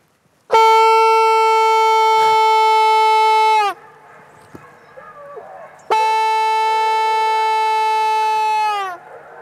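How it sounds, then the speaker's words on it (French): A hunting horn sounds the start of a boar drive hunt in Lozère, two long loud sustained blasts, each about three seconds, separated by a short quiet gap, clear and close with no talk. "je vais sonner le début de battue"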